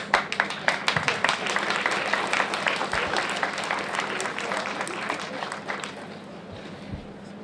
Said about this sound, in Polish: dziękujemy, duże brawa